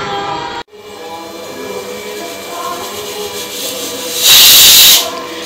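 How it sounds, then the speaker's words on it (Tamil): A pressure cooker cooking beetroot and mutton curry lets out steam: a low rumbling hiss runs through, then a loud, sharp whistle-like hiss bursts near the end for under a second, close and without talk. "அஞ்சாறு விசில் ஆச்சு, ஆஃப் பண்ணி"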